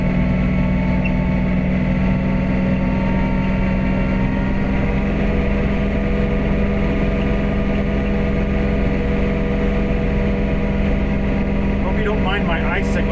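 A snowblower fitted with edge tamer feet runs steadily on a snowy driveway, its engine drone loud and continuous throughout with a faint high whine near the end.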